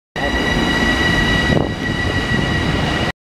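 A Long Island Rail Road Main Line train at a station makes a loud, steady rumble with a thin high whine for about three seconds. The rumble dips briefly midway, and no one speaks.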